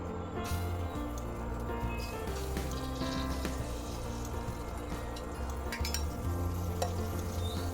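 Butter melts in a kadai with a soft, continuous sizzle and occasional faint scrapes, quiet and steady throughout.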